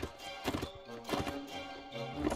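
Hooves of a ridden horse clop steadily in Mount & Blade: Warband during a hillside fight against bandits, a repeated galloping beat close up with a faint whinny and no talk.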